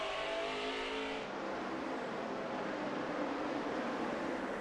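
NASCAR stock cars roar around Richmond during the 2010 Crown Royal 400, a loud, continuous engine wash that fades into a far, surf-like drone after the nearest car passes.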